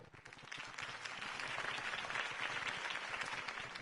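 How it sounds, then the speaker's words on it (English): Sustained crowd applause in the Telltale Batman video game, a dense wash of clapping that swells slightly and holds steady, heard alone without speech. "could have heard that applause"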